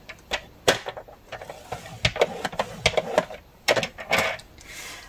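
A run of irregular crisp taps, scrapes and clicks as folds are scored into paper for a scrapbooked Halloween candy box, close and fairly quiet, with uneven rhythm and small bursts.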